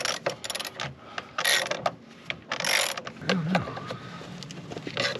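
A ratchet cranks on a bolt during repair work on a Jeep Grand Cherokee WJ, giving uneven bursts of fast clicking and metal scraping at close range, with pauses between strokes.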